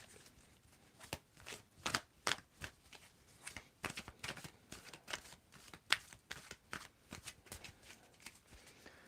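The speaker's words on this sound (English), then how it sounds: "tell me when to stop shuffling" Tarot cards being shuffled by hand in a steady run of crisp riffling bursts and taps, close up, with no talking.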